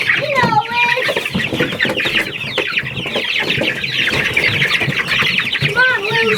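A homestead flock of chickens and baby chicks clucks and squawks continuously nearby, with a rooster's calls standing out, and a person's voice occasionally mixed in.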